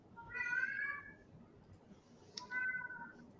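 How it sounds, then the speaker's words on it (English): Domestic cat meowing indoors during a casual group chat, two drawn-out meows a moment apart, moderately clear against quiet room tone. "Oh, is that a cat?"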